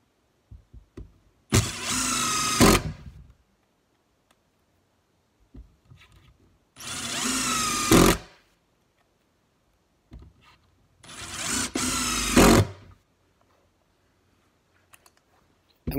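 A Ridgid brushless cordless drill spins up in three separate bursts of about a second each, with a loud, close whine and quiet pauses between runs.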